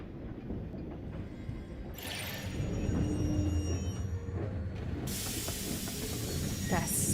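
A train in the Genshin Impact video game rumbles steadily along rails, loud and close, with a hiss of steam rising and bursts of bright noise, while voices are faintly mixed in.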